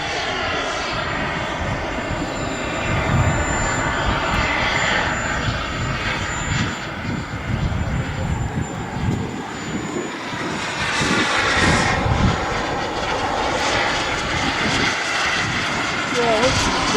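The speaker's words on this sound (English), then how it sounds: "Nice low pass from the second Taurus." A scale-model Taurus sport jet makes a low pass at a model air show, its loud continuous engine roar swelling and fading as it sweeps by close to the listener.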